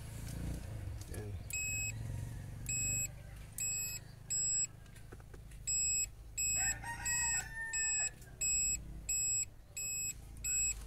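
A continuity tester's buzzer beeps in short, regular bursts while a car radio speaker's wiring is checked, the evenly spaced tones ringing out over a low background hum, with a brief scrape and rustle partway through.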